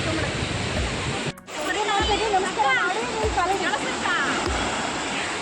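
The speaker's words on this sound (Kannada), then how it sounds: "ಸುಮ್ಮನೆ ನಿಂತ್ಕೊಂಡು ಅಲೆಗಳು ಸತ್ ಕೇಳಿಸ್ಕೊಳ್ಳೋದು ತುಂಬಾ ಚೆನ್ನಾಗಿರುತ್ತೆ." Sea surf at a beach at night rolls and washes continuously at a steady loud level, with people's voices talking over the roar of the waves.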